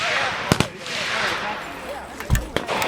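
At an outdoor shooting range, a few sharp, loud gun reports crack out in short bursts, separated by gaps, while people chat close by.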